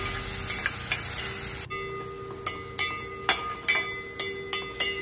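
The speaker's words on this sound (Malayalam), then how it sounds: "കടായി ചൂടാക്കി 4 ടേബിൾ സ്പൂൺ നെയ്യ് ഒഴിച്ചു കൊടുത്തതിന് ശേഷം കുറച്ച് ഉണക്കമുന്തിരി നമുക്കിതിലേക്ക് ഇട്ട് കൊടുത്ത് വറുത്ത് പോരാം." Raisins fry in hot ghee in a kadai, a steady close sizzling hiss broken by a series of sharp pops and crackles.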